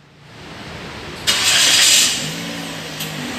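A Toyota Yaris Ativ engine cranks and starts, a sharp burst at ignition that swells briefly, then settles into a steady close idle, no voices.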